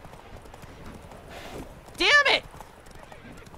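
Horses in a video game: hoof clatter runs faintly throughout, then a loud, short neigh, with someone speaking over it.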